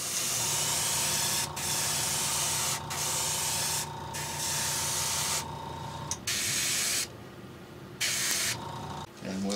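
A coat of paint is sprayed in long, steady hissing bursts close to the microphone. Short pauses break the spray, and faint background noise sits under it.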